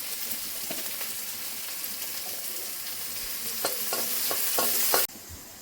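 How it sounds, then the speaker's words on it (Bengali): Onion, garlic and green chili frying in a pan with salt, a dense constant sizzle close by, with a few light knocks of the spatula near the end before it cuts off abruptly. "কিছুক্ষণ ভেজে নেব"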